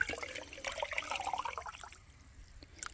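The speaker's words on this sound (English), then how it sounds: "I'm going to dump this in a 5-gallon bucket of water." Banana peel fertilizer concentrate is poured from a quart container into a 5-gallon bucket of water, giving a close, splashing, trickling pour that fades into a softer dribble.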